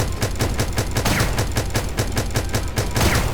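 Rapid automatic gunfire from strafing in the Starbound video game, a dense, loud stream of evenly spaced shots that continues without a break.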